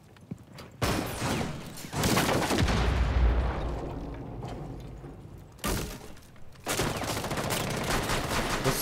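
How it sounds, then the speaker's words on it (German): Bursts of gunfire in the video game Rainbow Six Siege on the Favela map: sharp close volleys start and stop several times, with quieter gaps between the loud rapid bursts. "Was sind das für Schüsse?"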